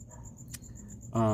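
Steady high-pitched cricket chirping pulses continuously in a front yard, with a brief click midway and a voice starting at the end.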